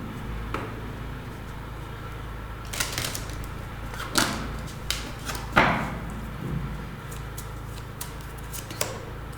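Lenormand cards being handled and shuffled during a tarot reading, heard as a series of close, sharp card snaps and flicks at irregular intervals over faint room noise, with no one speaking.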